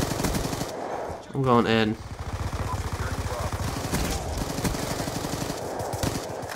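Call of Duty: Black Ops 2 gameplay with rapid automatic gunfire, a loud burst of shots followed by steady crackling fire and distant shooting, with a player briefly talking over it.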